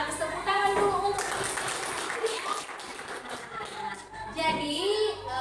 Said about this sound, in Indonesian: Ya, cukup bagus, tepuk tangan dulu untuk